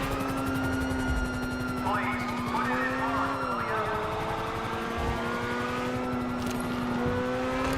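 A fast car engine drones and revs steadily through a police chase in GTA 5, with shifting pitch as it accelerates and gear changes, under constant game background noise and no talk.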